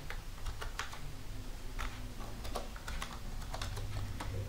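Quick, uneven keystrokes clatter on a computer keyboard as an email is typed. The clicks come in bursts and are faint and close against a low background hum.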